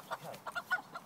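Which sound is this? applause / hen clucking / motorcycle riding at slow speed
hen clucking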